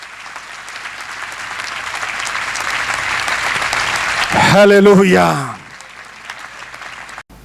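A church congregation claps loudly for Jesus, the applause building steadily. Near the end a loud voice calls out over it, then the clapping dies away quickly.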